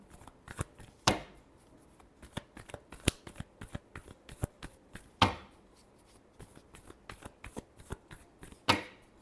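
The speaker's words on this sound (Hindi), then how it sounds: "last shuffle" Tarot cards riffled and shuffled by hand in a quick, uneven series of crisp flutters and sharp snaps, close and clear with no speech.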